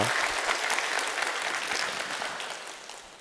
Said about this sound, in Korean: 목사님 나오실 때 뜨거운 박수로 맞이하겠습니다